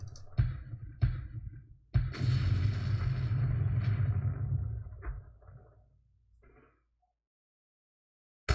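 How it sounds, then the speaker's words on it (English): Artillery fire in the wargame Campaign Middle East: a few sharp thuds, then a heavy booming barrage that rumbles for several seconds and fades to silence, with one more hit right at the end. "I called artillery in the wrong place"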